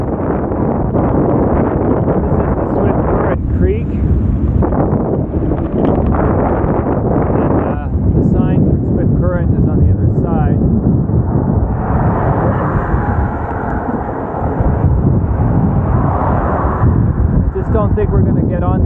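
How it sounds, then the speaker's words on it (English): Strong wind beside a highway buffets the microphone with loud, continuous low roaring and rumbling gusts that swell and dip throughout, almost completely drowning out the surroundings. "It's unbelievably windy."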